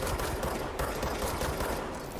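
Gunfire in the video game Control: a dense, continuous burst of rapid shots blurring into one rattling volley, steady and fairly loud throughout.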